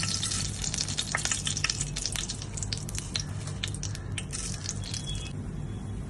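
A bay leaf, fenugreek seeds and whole garam masala sizzle and crackle in hot oil, with bright continuous spattering, stirring scrapes and small metallic clinks close up.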